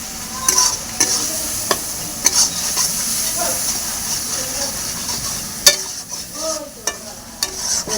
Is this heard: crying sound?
no